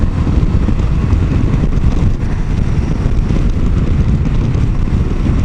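Steady, loud wind buffeting rushes across a helmet on a Suzuki V-Strom 650 XT motorcycle at highway speed, a dense continuous roar with no talking.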